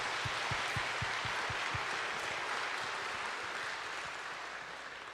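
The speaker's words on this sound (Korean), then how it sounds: "우리 박수 한번 해, 박수 한번." Congregational clapping during an evening service in a church sanctuary, faint and diffuse. A few hand claps ring out in a quick regular rhythm at the start before it settles into a soft continuous patter that gradually fades.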